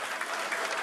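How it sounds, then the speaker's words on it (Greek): Dense, steady applause from a crowd at a SYRIZA Central Committee meeting, a continuous wash of clapping filling the whole short moment. "εν μέσω χειροκροτημάτων αλλά και έντονων αποδοκιμασιών"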